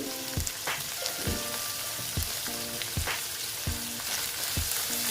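Dried fish frying in oil with turmeric in a pan makes a loud, continuous hiss, broken by regular spatula scrapes against the pan about every second.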